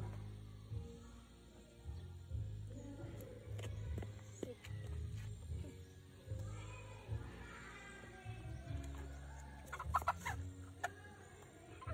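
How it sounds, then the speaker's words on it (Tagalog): A chicken on a Philippine farm clucks in soft, repeated bursts close by, with faint background rustling and other bird noises in a quiet outdoor setting. "So this is the chicken that I'm going to kill today"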